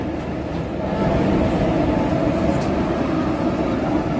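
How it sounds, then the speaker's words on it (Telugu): Garib Rath Express hauled by a WAP4 electric locomotive at Charlapalli, a loud steady rumble of rolling coaches and wheels on track heard up close throughout, without talk. "VAP4 లోకోమోటివ్ తో ఉంది గరీబ్ రథ్ ఎక్స్ప్రెస్"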